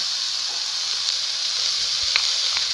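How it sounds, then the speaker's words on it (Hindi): Boiled chicken pieces for a spicy paratha filling sizzle in a hot pan, a close, steady frying hiss with a few faint pops and ticks and no voices. "थोड़ा सा भून कर अब इसमें गोश्त शामिल करें।"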